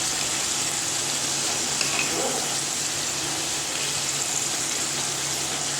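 Potato slices frying in a pan, a steady broad sizzle running evenly through the whole stretch with a faint stir partway, no talk over it.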